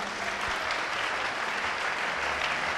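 Applause from a church or sermon audience, a steady dense wash of clapping sustained evenly throughout, fairly loud and without talk over it.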